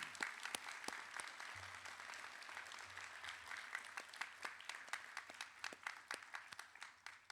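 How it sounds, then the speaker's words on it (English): A graduation crowd applauds steadily throughout, many hands clapping at a moderate distance, thinning slightly toward the end. "please thank them for their efforts with a warm round of applause"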